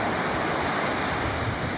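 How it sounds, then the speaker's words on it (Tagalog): Ocean waves wash steadily beneath a white moon in a broad, continuous roar of surf, close and full with no breaks and no voices. "Gustong-gusto ko talaga yung alon, oh."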